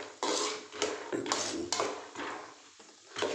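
Peanuts fried in oil in a home kitchen pan give off a series of distinct scraping, clattering bursts as they are stirred, close and fairly quiet, with short pauses between strokes.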